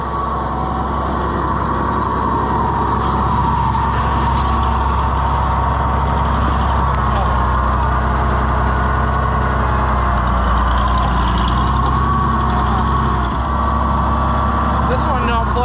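A tractor engine idles steadily and close by, a deep continuous rumble that runs the whole time beneath intermittent talking.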